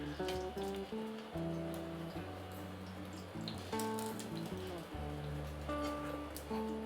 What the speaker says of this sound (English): So we're going to pan fry the prawn.